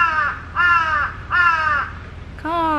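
Harsh crow caws repeat in a steady series in a Tokyo residential neighborhood, four loud calls with short gaps, close by and clear over a faint background hum, with construction nearby.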